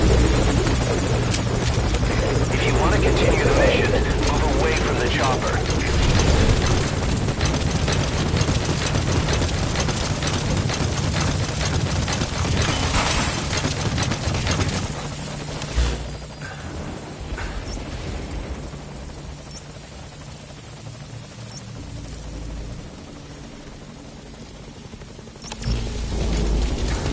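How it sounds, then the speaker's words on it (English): A helicopter flies overhead with a loud, continuous rotor thump and engine roar that dominates at first, then eases somewhat before swelling again near the end. "Chopper."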